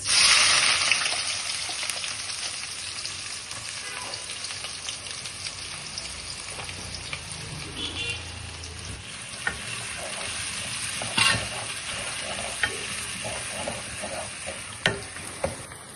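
Onions and cumin with cardamom and cinnamon frying in a pan, a steady close sizzle with occasional spoon scrapes and clacks as they are stirred, with no talking over it.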